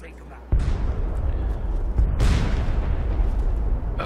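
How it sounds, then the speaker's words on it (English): Heavy artillery guns pound in Fallout 3, a loud booming onset followed by sustained rumbling low-end blasts, with a second big impact midway and continuous battle noise throughout. "These guns are pounding on our guns"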